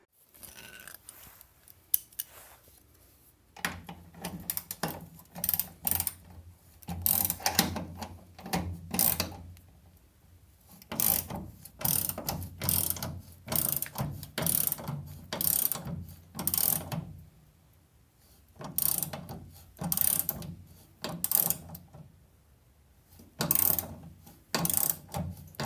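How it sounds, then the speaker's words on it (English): A ratchet-type puller is cranked in bursts of quick clicking strokes, working to straighten a damaged Porsche floor pan; short pauses separate the groups of clicks, all fairly close and clear with no talk. "I'm gonna start cranking on it, make sure that things are straightening out the way I want."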